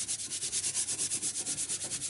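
Quick rhythmic strokes rub over glued paper for a handmade circular art journal, a close, brisk scratchy swish repeating about eight times a second with no talk.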